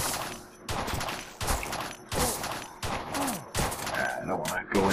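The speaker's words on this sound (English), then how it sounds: "Ah, minigun again." A minigun fires in bursts in the top-down shooter Crimsonland, with rapid gunfire coming in roughly half-second rhythmic pulses, close and moderately loud, and other game effects layered in.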